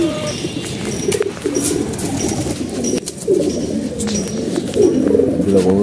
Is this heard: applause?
no